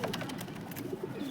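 Pigeons for sale, a pair with eggs, making soft low cooing calls that rise and fall close by, with a faint steady background hum and no speech.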